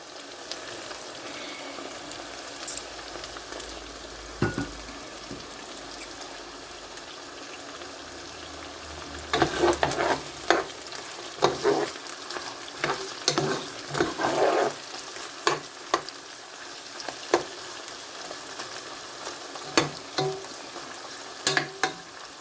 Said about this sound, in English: Get the onions frying.